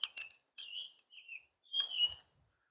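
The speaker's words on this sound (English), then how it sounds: "Hope you can hear that bird up there." A few short, high chirps from a bird in quiet surroundings, coming in separate bursts with gaps between them.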